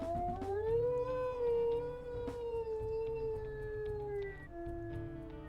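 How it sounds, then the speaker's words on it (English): A wolf in the video game WolfQuest lets out a long, low, wavering howl, a single sustained call that slides slightly in pitch and fades, heard alone and close. "She has the really low howl."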